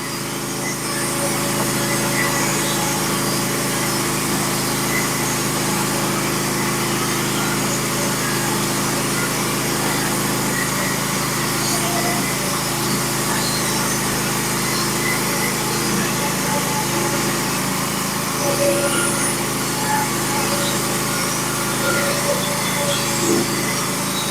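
A Norwood HD36v2 sawmill saws black oak floor boards, an unbroken engine drone and blade whine holding steady and fairly loud throughout, without any voices.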